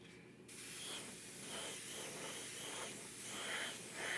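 Paint base coat sprayed onto a 1/4 scale custom Hellboy figure: a steady, close, airy hiss starts after a brief quiet moment and continues with gentle pulsing swells in loudness.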